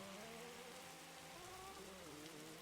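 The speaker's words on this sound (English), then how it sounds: "Look at the rain out here. It's intense." Steady, dense rain hisses continuously at a racetrack in a Roblox motocross game, an even wash of noise with faint engine tones underneath.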